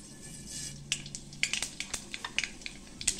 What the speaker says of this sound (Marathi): छानपैकी अशी मोहरी तडतडली